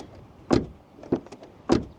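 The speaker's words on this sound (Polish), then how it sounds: "W ogóle dźwięk otwierania i zamykania drzwi." The door of a 2020 Škoda Scala 1.0 TSI opens and closes, producing three distinct thuds about half a second apart, each a solid close-range impact with a brief ringing tail and no voices.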